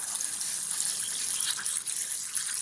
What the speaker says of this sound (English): I'm going to bring the water to just above the level of the rocks again.